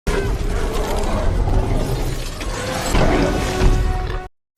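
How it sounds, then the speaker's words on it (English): Thick car glass being torn and smashed by a monster's massive claws in a dinosaur movie scene, loud repeated crunching shatters and scraping impacts that swell near the end before cutting off abruptly. "The monster began using its massive claws to tear through the thick glass layers of the car, as if it were merely a toy."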